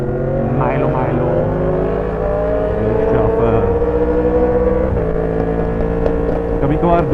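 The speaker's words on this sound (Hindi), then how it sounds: "बाइक के जो सिलेंडर फायरिंग पैटर्न होती है उनकी आवाज़ें कभी सिंक्रोनाइज हो रही है कभी अनसिंक्रोनाइज" Motorbike engines ride through a narrow alley walled on both sides on the road to Murree, a loud, steady throbbing drone whose pitch shifts and wavers as the firing pulses drift in and out of sync.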